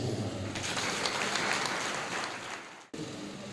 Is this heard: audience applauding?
yes